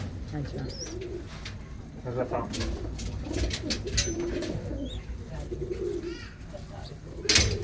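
Pigeons coo in a Ludhiana loft of racing pigeons, soft repeated coos continuing under nearby talk and other bird calls.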